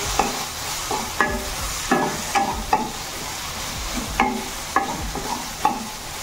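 Potatoes coated in masala get stirred in a pan for a bottle gourd curry, a spoon scraping and clacking in a regular rhythm of sharp strokes over a soft, continuous sizzle, close up with no talking.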